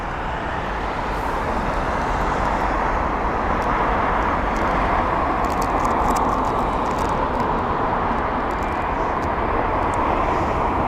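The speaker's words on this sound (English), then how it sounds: "the Virgin Atlantic 787-9 Dreamliner" A Virgin Atlantic Boeing 787-9 Dreamliner at Heathrow, a continuous mid-distance jet roar over ambient airport and road traffic noise, steady throughout.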